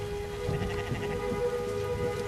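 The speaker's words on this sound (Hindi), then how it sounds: "आज बारिश हो रही है" Steady rain falls in an even hiss, with a constant low hum underneath and no voices.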